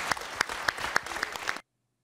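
A crowd of committee members applauds with strong, regular beats as if clapping in unison, then the sound cuts off suddenly into silence.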